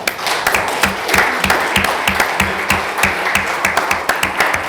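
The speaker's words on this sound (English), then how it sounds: "A big round of applause for Nicole." Applause from an audience at a Farmville, NC town board meeting, dense sustained clapping filling the room for several seconds with no talk over it.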